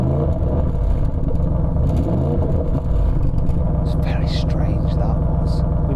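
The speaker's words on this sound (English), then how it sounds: "Give it some revs." A car engine idles with a deep rumble and is revved, the exhaust valve in its sportiest setting, loud and close throughout with a brief higher whine near the end.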